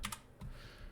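Keys clack on a computer keyboard in a quick cluster of close, crisp taps, followed by a couple of softer strokes.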